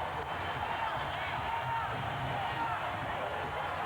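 A sellout basketball arena crowd of about 19,000 rises to its feet at an NBA game between the Wizards and Suns in 2002, a dense, steady roar of cheering and hubbub filling the space throughout.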